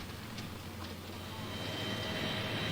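Helicopters flying over a wartime front in Vietnam make a continuous, muffled mechanical drone with a low hum. The sound stays at an even, moderate distance and slowly swells a little toward the end.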